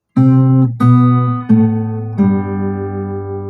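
Four plucked notes on an acoustic guitar, each struck cleanly and left to ring, descending in pitch one after another for the melody of a song, close and loud.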